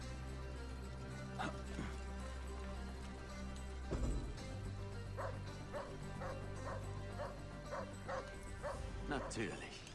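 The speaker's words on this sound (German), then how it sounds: "Ein Hund ist das." In Assassin's Creed Origins, a game dog barks in a steady series of short, evenly spaced yaps near the listener, over a low background hum with talking underneath.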